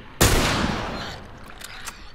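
A single loud gunshot from The Last of Us Remastered cracks out sharply and rings off in a long decaying tail, followed by a few faint clicks.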